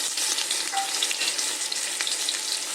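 300 grams of chopped onion fries in ghee, giving a continuous bright crackling sizzle with small pops, steady and close, with no one speaking.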